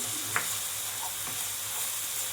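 Green peas fry in hot oil in a pan for a Bengali dish, a soft, steady sizzle with a faint stirring scrape near the start, heard up close and alone.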